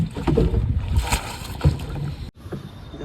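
A small fishing boat rocks on water beside fishing nets, with low rumbling knocks, sloshing and wind noise, close and fairly loud, and a brief drop to near silence near the end.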